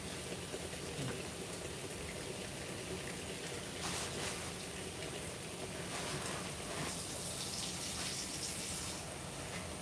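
Tap water runs steadily over greens being washed in a sink, a continuous close hiss and splash with small shifts as the leaves are handled.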